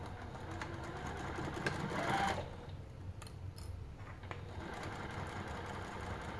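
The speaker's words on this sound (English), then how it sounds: "I'm going to go ahead and sew around the top edge right here" Sewing machine running along the top edge of a garment lining at a 3/8-inch seam allowance, a fairly quiet continuous mechanical hum lasting several seconds, close by with faint rattling clicks.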